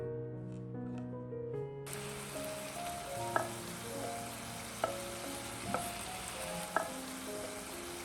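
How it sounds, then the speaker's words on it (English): Squid stir-frying quickly in hot oil, a faint steady sizzle that starts under a short stretch of music and then continues with several sharp spatula clicks against the pan at irregular intervals; no talking. "When the oil is hot, add the squid and stir-fry quickly until it changes color and curls up"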